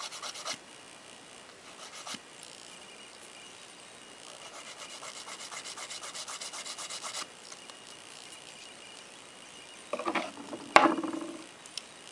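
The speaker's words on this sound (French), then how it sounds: "Donc c'est pour ça que j'utilise la lime banane." Gel nails are filed with a curved banana nail file, giving a steady, quiet rasping rub in repeated strokes, with a sharper scrape and a few louder scratches near the end.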